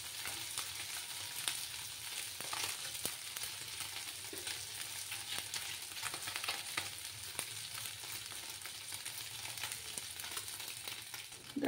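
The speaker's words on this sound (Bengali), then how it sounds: "আরও কিছুক্ষণ আমি এইভাবে মাছগুলোকে ভেজে নেব" Small fish frying in oil in a pan, a continuous soft crackling sizzle with scattered sharper pops, fairly quiet and steady with no voices.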